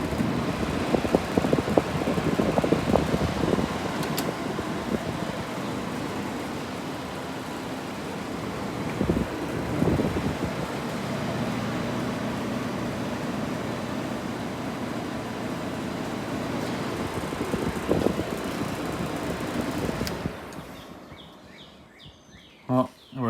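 A 1971 Philco Ford Noiseless 11,000 BTU window air conditioner with a TXV upgrade runs steadily, its fan pushing a broad, close airflow hiss that holds even for about twenty seconds before cutting off near the end.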